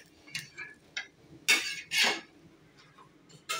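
A utensil scrapes a cooked moong dal (green gram) dosa off a hot pan in a few short, sharp metallic scrapes and clinks, close up with quiet gaps between them and no talking.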